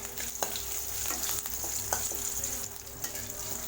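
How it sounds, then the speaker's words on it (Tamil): Chopped green chillies frying in oil with curry leaves and dried red chillies, a continuous close sizzle with a few brief stirring clicks. "பச்சை மிளகா பார்த்தீங்கன்னா நல்லா பொரிஞ்சிச்சு பாருங்கள் எண்ணெயில்"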